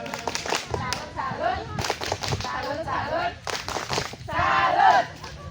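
A crowd performs a rhythmic salute clap (tepuk salut) at a community event on Karibia Beach in Tegalpapak, Pagelaran, with bursts of clapping mixed with voices and shouting, growing louder toward the end.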